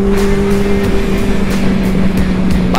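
A Benelli 600 motorcycle cruises on a highway with a steady, loud engine drone and rushing wind noise, holding an even pace and rising slightly near the end.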